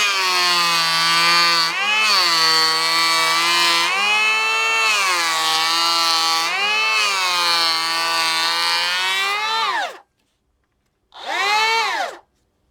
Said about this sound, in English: we're gonna do a 1 millimeter pass